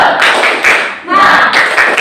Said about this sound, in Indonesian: Bisa tepuk semangat? Tepuk semangat.